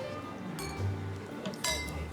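Glasses clink together during a toast, a bright ringing tap followed by a second, louder clink, heard under murmured voices and low room noise.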